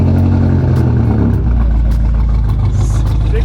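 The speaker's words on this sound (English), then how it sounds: "Sounds like a tractor. Inline 6." An inline-six car engine idles loudly up close with a low, steady, slightly lumpy, tractor-like rumble and some mechanical clatter.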